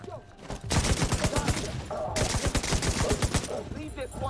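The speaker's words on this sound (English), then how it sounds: "An idiot with an LMG that has explosive rounds in it now" LMG loaded with explosive rounds firing in The Division 2 video game: rapid, loud, close bursts of automatic fire with punchy explosive impacts, broken by a brief pause before resuming.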